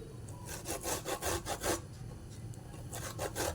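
A peeled, medium-cooked carrot is grated by hand in rapid rhythmic scraping strokes, a short burst, a pause, then more strokes, fairly close and faint, with no talk.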